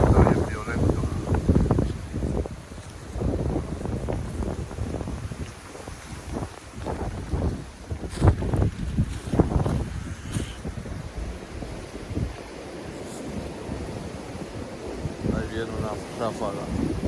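Strong wind gusts buffet a hot tent at a backyard campsite, a loud continuous roar with flapping fabric surges, while a voice talks over it.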